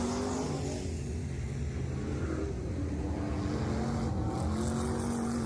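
Pro racing pickup trucks at a race track, with slower traffic ahead of the leaders, roar past in a dense, continuous engine drone that stays loud throughout the stretch, without any talking.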